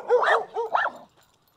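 A small leash-reactive dog gives two or three quick, close, sharp barks while out on a walk, then falls silent.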